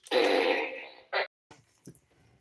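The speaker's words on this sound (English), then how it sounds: "You could play the horn of farting." A novelty horn sounding a fart noise: one long buzzing blast that fades out, then a short second burst and a few faint sputters, close and alone.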